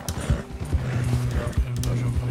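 Horse hooves clip-clop in snowy terrain in Red Dead Redemption 2, a quick, uneven series of thuds close by, with a voice talking over them and a brief whinny-like tone.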